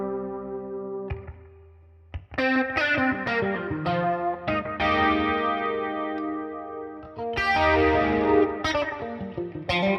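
An electric guitar runs through the vibrato mode of a Line 6 Helix Stadium XL and plays wavering, shimmering chords and single notes. A brief pause breaks the playing, which then rings on with echoing sustain and no speech.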